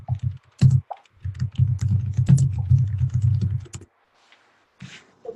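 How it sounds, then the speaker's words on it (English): Rapid typing on a computer keyboard, close and clear, a dense run of clattering key clicks for several seconds that trails off into a few scattered taps. "you're typing"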